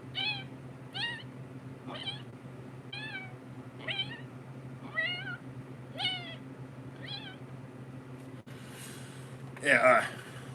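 A voice imitates a kitten, giving about nine short, rising-falling mewing calls at a steady pace over a low background hum, followed by a brief breathy burst near the end.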